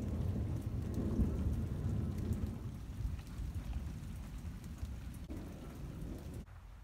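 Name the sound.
thunderstorm outside with thunder and rain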